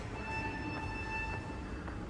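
Train at a railway station in Northern Ireland, a steady low rumble with thin sustained tonal whines from the rails or motors, continuous and fairly quiet throughout.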